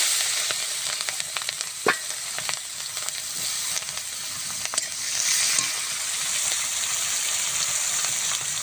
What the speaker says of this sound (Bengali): তেলের মধ্যে দিয়ে দেব কালো জিরে ফোড়ন কাঁচা লঙ্কার পেঁয়াজ